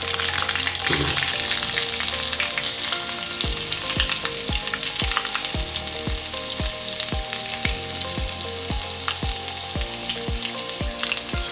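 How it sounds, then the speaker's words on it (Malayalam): Mustard seeds and chopped shallots fry in hot oil for a Kerala-style pineapple pachadi, giving a steady close sizzle with sharp popping crackles and repeated clanks of a stirring spoon on the pan. "കടുക് പൊട്ടി വരുമ്പോഴത്തേക്കും നമുക്ക് ഈ ചെറിയുള്ളി അരിഞ്ഞ് വെച്ചിരിക്കുന്നത് കൊടുക്കാം"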